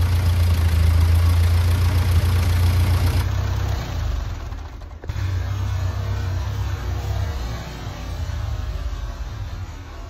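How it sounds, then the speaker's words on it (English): A steady, loud engine idles nearby with a low rumbling drone, dipping briefly midway before settling back into an even idle. "Running good now. Yeah, just that idle just a little bit."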